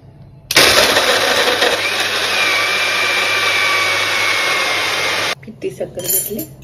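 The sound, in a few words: kitchen mixer blending muskmelon juice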